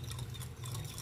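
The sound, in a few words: pouring a little water into pan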